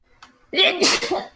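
A single sharp sneeze with a short breathy lead-in, close and fairly loud.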